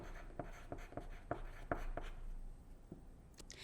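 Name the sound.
writing a word with a pencil on paper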